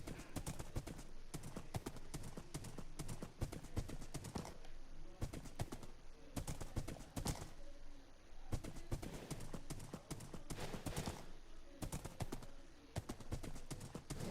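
A horse's hooves clip-clop in quick, steady bursts as it trots and gallops across terrain in a video game, sharp close knocks repeating in runs with brief pauses.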